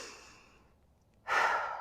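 Heavy breaths during a rolling plank done on the knees: a long, fading exhale, a pause, then a loud, close, breathy rush of air with no talking.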